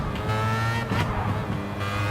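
Race cars from Gran Turismo 7 roar steadily in a game prototype race, with a Jaguar XJR9 from 1988 and a Vision Gran Turismo McLaren among them, engines droning loudly with a brief rising pass and faint tire squeal, no talk.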